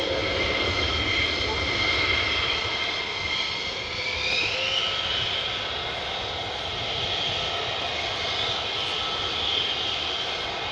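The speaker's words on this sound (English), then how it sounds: "Sounds more like conventional jet, doesn't it? The 35. Or the Lightning." F-35 Lightning fighter jet flying at RAF Lakenheath, a loud continuous roar with rising and falling whine as it passes, steady throughout without any break.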